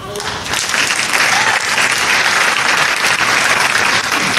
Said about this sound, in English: One more round of applause for everyone who's won one.